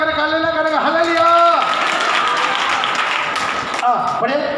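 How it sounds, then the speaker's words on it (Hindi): A church congregation claps hands during a Hindi Bible study, a brief stretch of dense, scattered clapping mixed with voices between spoken phrases. "ताली बजा कर हालेलुया करेंगे, हालेलुया।"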